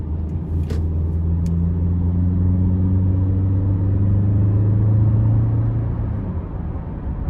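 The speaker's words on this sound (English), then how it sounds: "We'll give it some throttle coming out of this corner." A 2011 Toyota Camry LE with its 4-cylinder engine pulling hard out of a corner, a steady droning engine note rising gradually in pitch under a constant road rumble, heard from inside the cabin with no talking.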